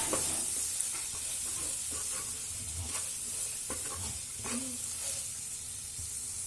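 Green beans fry with turmeric and salt in a pan, a steady sizzling hiss broken by scraping, tapping stirs of a spatula, close and moderately quiet, with no speech.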